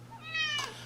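A pet cat meows once outside, a single drawn-out cry that is fairly faint and slightly distant.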